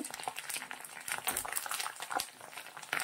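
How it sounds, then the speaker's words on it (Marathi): Curry leaves crackle and spit in hot oil for a Maharashtrian bhadang chivda snack, a steady dense sizzle with sharp popping bursts throughout, close and fairly loud. "मस्त असा कढीपत्ता आपण तळून घ्यायचा आहे"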